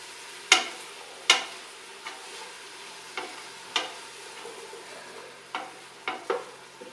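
A heavy duty spoon stirs red sauce in a pot, giving about ten sharp scraping knocks against the pot at an uneven pace, fairly close, over a soft background hiss with no talking.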